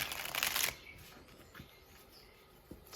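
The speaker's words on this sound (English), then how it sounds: "We're just going to shuffle and see how it feels." A brief riffle of tarot cards being shuffled, soft and close, followed by quiet with a couple of faint taps.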